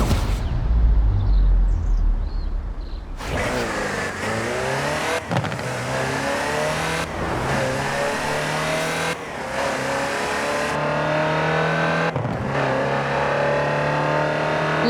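Engine of a Land Rover Type 3 utility vehicle in Forza Horizon 4, revving loudly and repeatedly through gear changes after a quieter opening, with several distinct upshifts and a steady climbing drone between them.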